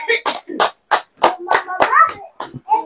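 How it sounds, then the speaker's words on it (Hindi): Hands clap in a quick series of about nine sharp, separate claps close by at a Christmas Day church gathering, with brief gaps between them and no talk in between. "ताली बजाओ"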